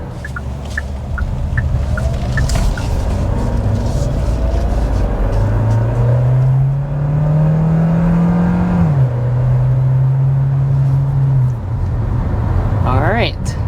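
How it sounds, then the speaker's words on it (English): A 2027 Kia Sportage accelerates hard up to about 60 mph, its engine note climbing steadily in pitch before dipping at a gear change and rising again. The engine is loud and continuous, with no talk over it. "we need to go ahead and start with a hard acceleration"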